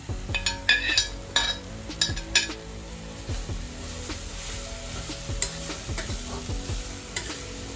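Ridge gourd pieces and grated gourd tossed into a hot pan for a Malvani-style bhaji, with a steady sizzle under repeated spoon scrapes and clinks against the metal, several sharp knocks early on, then gentler stirring.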